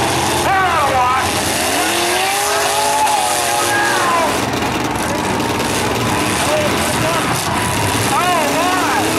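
Trucks rev and roar in a demolition derby truck heat at Brooklin, loud engines, skids and revving swells mixed with crowd noise, while an announcer talks over the action throughout.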